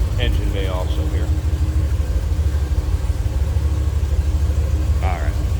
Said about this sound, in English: Nice little rumble coming out of that big block, but nothing too crazy over the top.